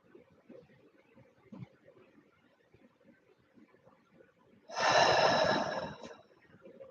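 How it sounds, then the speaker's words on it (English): A single deep belly-breathing exhale during a Reiki cleansing breath exercise, heard as a close, loud rushing breath of about a second and a half after quiet, faint room noise. "Belly breathing, not breathing up here."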